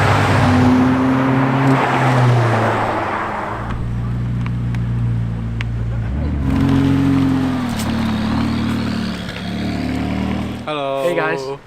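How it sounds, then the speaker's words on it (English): Supercar engines driving on a remote road on Hong Kong island, with a steady low engine drone and rising revs, broken by a shift in pitch midway, and a brief change near the end under continuous background noise. "supercar owners get together at different remote spots of the island and they take their cars for a spin"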